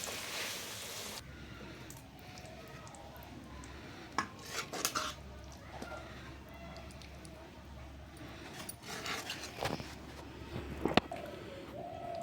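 Cooked okra and potato curry served from a pan, with close metal spoon scrapes and clinks against cookware scattered over a quiet kitchen background, growing busier toward the end.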